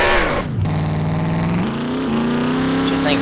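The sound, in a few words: car doing a burnout, engine revving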